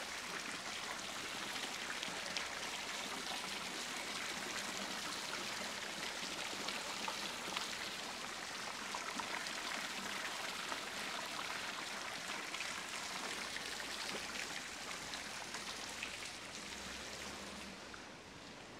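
Steady broadband splashing of water flowing from a lion's-head spout in a street fountain near the old town hall in Cotroceni, Bucharest, a constant rushing patter that holds evenly throughout and fades slightly at the end.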